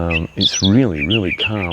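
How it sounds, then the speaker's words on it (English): Bright little bird chirps sound in the background beside a still, windless river while a person speaks calmly over them, in a quiet outdoor setting in Australia. "There's some lovely birds chirping here."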